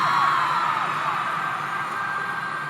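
A large crowd at an Oakland arena concert screams and cheers in a dense, sustained wall of high-pitched shrieking that stays loud throughout.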